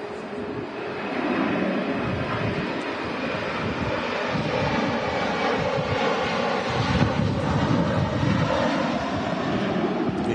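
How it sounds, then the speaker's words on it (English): A Jet2 Boeing 737-800 lands at Manchester Airport in strong storm winds, its engines roaring loud and steady throughout, mixed with heavy wind buffeting on the microphone. "Here goes the 737 800 series. Jet2"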